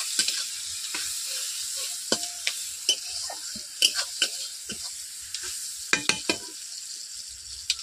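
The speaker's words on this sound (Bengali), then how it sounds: "ভেজে নিচ্ছি।" Salted onions fry in a pan for a katla fish cashew barfi curry, a soft steady sizzle broken by scattered clicks and scrapes of a spatula stirring, close and fairly quiet.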